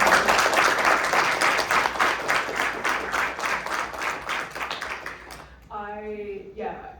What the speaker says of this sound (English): let's give a round of applause to our guests.